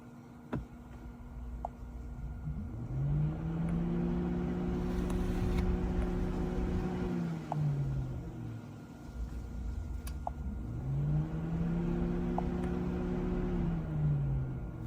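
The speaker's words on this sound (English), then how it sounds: "You should be able to hear the fan come on." Car electronic radiator cooling fan switching on and running, a steady electric whir with rising and falling tonal hum in two long cycles, close and continuous with no talking.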